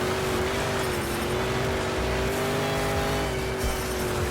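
The Grave Digger monster truck races around a dirt arena track in a Monster Jam rival race, its engine roaring loud and steady with a sustained droning tone and no letup.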